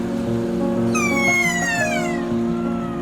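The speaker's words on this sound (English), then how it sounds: "These little guys are called kea." Kea parrots in New Zealand calling outdoors, a few high gliding descending screeches over a steady background engine hum, moderately close.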